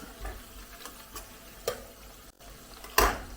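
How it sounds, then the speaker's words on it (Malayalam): Garlic frying in a pan for a Kerala tapioca dish, with a light sizzle under scattered stirring clicks and scrapes, one sharper clatter near the end. "നമ്മൾ അതിനകത്തേക്ക് വെളുത്തുള്ളി കൂടെ ചേർത്ത് കൊടുത്തിട്ടുണ്ട് ഇതെല്ലാം കൂടെ ഒന്നുകൂടെ ഒന്ന് മൂത്ത് വരണം"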